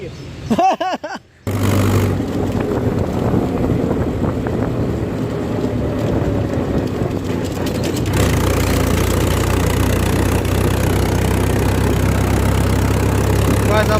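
Second-hand Mahindra 475 DI tractor engine idling with a steady low throb close by, after a brief clattering start, continuing evenly throughout.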